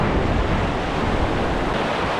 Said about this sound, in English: The next challenge is to cross this river.